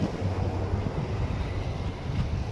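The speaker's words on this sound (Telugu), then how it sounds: "చూడండి ఎలా వస్తుందో గాలి" Strong outdoor wind gusting hard against the microphone, a loud, rumbling buffet that stays constant throughout the short stretch with no voices.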